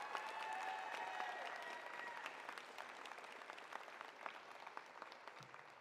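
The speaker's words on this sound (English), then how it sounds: "Give them a round of applause." Audience applause fills the room at a Macarthur High School JROTC award ceremony, a dense, steady clatter of many hands that runs throughout and eases slightly toward the end.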